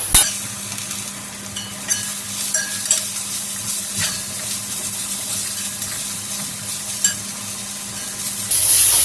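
Beetroot poriyal with drumstick leaves stir-fries in a pan: a soft, continuous sizzle runs under repeated scraping strokes and light clinks of the spatula, fairly close and moderately loud throughout.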